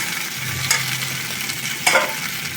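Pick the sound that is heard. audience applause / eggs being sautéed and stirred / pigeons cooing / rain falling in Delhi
eggs being sautéed and stirred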